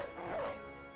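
A dog barks once, short and yappy, in the medieval tactics video game Battle Brothers, fairly loud over a busy layer of game sound.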